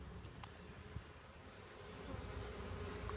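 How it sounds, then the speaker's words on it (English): Honey bees fanning at the entrance of a hive housing a swarm, giving a faint, continuous buzzing hum that grows slightly louder toward the end. "See, we've got some of them starting to fan."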